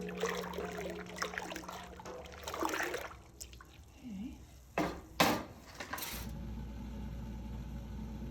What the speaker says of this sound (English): I'll stir this up and let it sit for a while so that it integrates